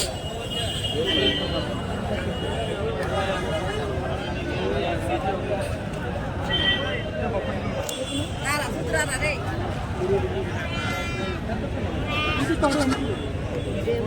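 Young rams bleat among goats for sale at a busy livestock market in Kadiri. Several short bleats rise over steady crowd chatter and nearby talk.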